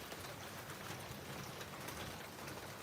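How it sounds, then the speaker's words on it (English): Steady rain falling outdoors on a home yard and garden plants, a soft, even, continuous hiss that stays faint and unbroken from start to finish, with no voices. "I hadn't planned on it raining all day"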